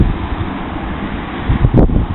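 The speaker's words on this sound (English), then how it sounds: "sorry about the wind" Wind rumbles steadily across a microphone outdoors, with a low, gusty roar that swells briefly near the end.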